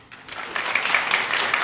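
An audience at a public opinion and polling forum breaks into applause that starts quietly and quickly swells to a moderate, sustained clatter of clapping.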